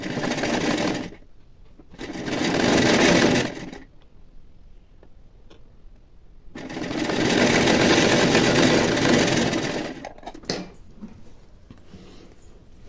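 A sewing machine stitches the belt strips onto a plain blouse a quarter inch from the edge, running loud and close in three whirring bursts of increasing length separated by quiet pauses.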